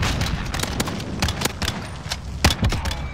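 Sharp gunshots in a video game gunfight, a rapid irregular string of loud close cracks and thuds with a heavier cluster near the end, no talking.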